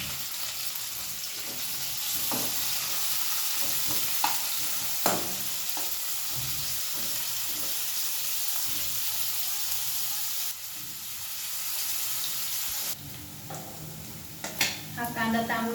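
Two large onions fry for chicken masala, a steady broadband sizzle running throughout with scattered spoon scrapes and clinks against the pan, close and continuous without speech.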